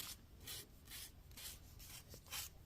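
Soft, close rubbing strokes repeat in a steady back-and-forth rhythm, about half a dozen quiet rasping passes of cloth buffing a small hammered metal pendant.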